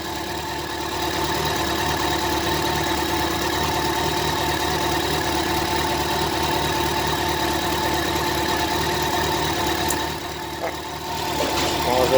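Yamaha FJR 1300 motorcycle engine idling with a misfire, a steady close mechanical drone with uneven knocking texture, rising slightly near the end.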